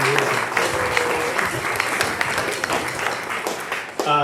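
An audience at a jazz band performance at the Shack applauds the soloists, sustained clapping that fills the room and fades near the end as a voice begins to speak.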